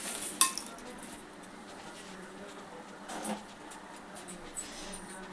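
Whole garam masala, star anise, stone flower, cardamom, shahi jeera, four cloves and cinnamon, stirred into leftover onion-frying oil in a pot for egg biryani: a sharp metal clink near the start, then faint scraping and soft stirring.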